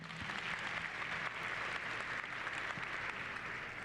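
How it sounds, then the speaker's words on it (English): Audience applause at a university honors convocation, a dense, sustained wash of clapping from a large crowd in a hall, steady throughout with no voices. "That deserves a big round of applause."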